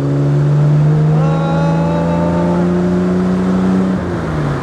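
A Jaguar Type C replica engine pulls hard under acceleration, its loud near drone climbing in pitch for a few seconds, then easing off as a gear shift drops the revs.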